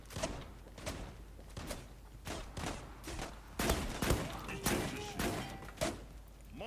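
Gunfire from an M4 Super 90 shotgun in an online shooter game: repeated sharp blasts spaced irregularly over steady game background noise, with faint talk mixed in.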